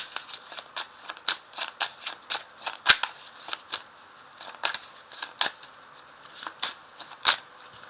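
A classic 32-card deck of playing cards is shuffled repeatedly, producing a rapid series of sharp, close riffling snaps and flicks in irregular bursts, with no talk.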